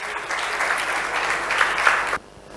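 A conference audience at a bank association general meeting applauds a speaker from Erste Group Bank, a steady dense clapping that holds for about two seconds before cutting off sharply into a quiet room.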